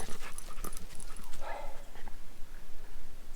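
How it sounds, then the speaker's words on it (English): A dog on a lead during a walk breathes in quick, rhythmic pants close by, with a brief whimpery sound midway and outdoor background noise underneath. "So for safety's sake, I'm keeping Scout on the lead,"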